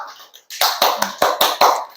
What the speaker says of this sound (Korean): 얘들아 박수 한번 칠까?